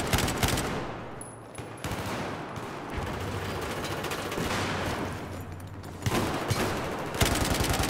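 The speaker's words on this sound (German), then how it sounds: "haben die von der anderen Seite geschossen?" Dense gunfire crackles through the video game Battlefield 4, with rapid automatic bursts and overlapping shots sustained across the whole stretch, loud and close.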